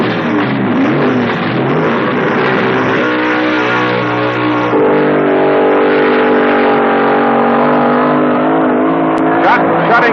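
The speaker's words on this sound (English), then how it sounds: "Schott running with Chevy power, hoping to get a little more reliability than he has had in the past" Chevy-powered drag racing cars roar down the strip at Raceway Park during the 1970 NHRA US Nationals, a loud sustained engine drone shifting in pitch, with an announcer talking over it.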